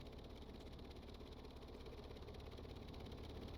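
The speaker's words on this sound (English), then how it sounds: "Props are overly loud and the engines are overly quiet right now." Aircraft engines idle quietly in the Stormworks game, a steady low droning rumble with faint vibration, even and continuous with no talk.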